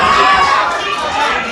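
Rowdy boxing crowd at a Govan club home show, a loud wall of cheering and shouting voices near and sustained, easing slightly midway but continuing throughout.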